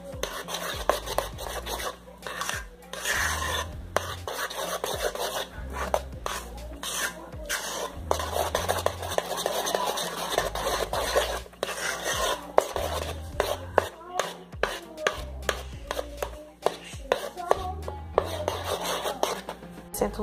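Spoon scraping and clinking in a bowl as powdered milk is stirred into a white chocolate mousse mixture, a steady run of close, busy clatter with short pauses, no talk.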